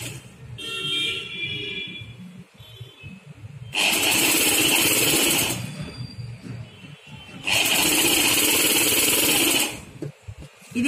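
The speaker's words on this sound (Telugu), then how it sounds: "ఇదిగోండి ఇలా సన్న మడిచి కుట్టుకోవాలి మనము" A sewing machine stitches a narrow folded hem on a blouse in two loud, steady, whirring runs of about two seconds each. A quieter pause with faint background noise separates the runs.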